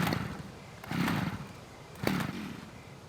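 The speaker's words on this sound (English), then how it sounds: "I've got the chainsaw. Okay, the chainsaw has got gas in it." A chainsaw in the survival video game Scum revs in two short bursts separated by a lower idle, close and moderately loud, with no voices.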